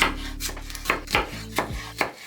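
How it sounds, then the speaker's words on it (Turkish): A knife chops tomatoes on a cutting board for a mango avocado salad, giving several soft, separate thuds at an uneven pace, close and fairly quiet, with no voices. "Domatesi doğruyoruz."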